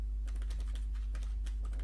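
Rapid typing on a computer keyboard while coding a C++ game engine, a quick irregular run of close key clicks over a steady low hum, with no speech.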